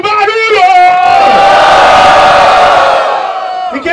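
A crowd at a Brazilian freestyle rap battle semifinal roars and cheers loudly, with shouts and whoops swelling into a sustained, dense wall of noise.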